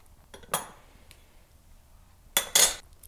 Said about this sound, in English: I'm going to be using both the spatula and tongs to remove my piece from the kiln